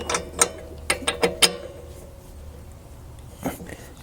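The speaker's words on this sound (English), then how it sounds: "just need to get your tool over the thread of the spark plug and just nip it a little bit" A tool ratchets in several quick, faint clicks as a Lambretta scooter spark plug is nipped tight, followed by a pause and one more click.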